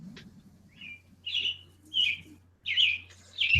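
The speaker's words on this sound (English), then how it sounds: "I wish these birds would shut the hell up" Small birds chirp outdoors in short, bright bursts, four or five separate calls spaced about half a second apart, fairly close and clear over a low steady hum, with no talk.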